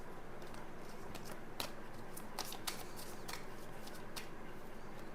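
A deck of tarot cards is shuffled close up, giving soft papery riffles and a few sharper flicks over a steady background hiss, with no talking.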